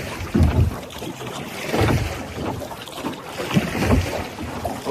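Wind gusts blow across open water beside a small boat near a small island, a steady broadband rush that swells and fades in several gusts with low buffeting against the microphone.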